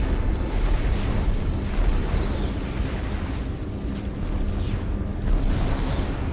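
A gun turret blows up in the space combat game Strike Suit Zero, a sustained roaring blast with a deep rumbling tail that stays loud throughout, no talk over it.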